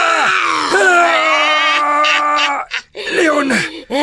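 A woman screams in pain during a dramatic scene: loud, sustained, strained cries that break off briefly near the end before resuming.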